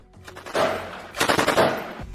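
Bursts of gunfire ring out as fighters open fire, two loud, rattling volleys of rapid shots a moment apart.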